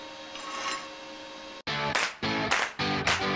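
Gasless flux-core MIG welding on steel plate with a Weldpro MIG 155, laying the first pass: a steady hum gives way to loud, close bursts of harsh crackling sizzle in short repeated runs.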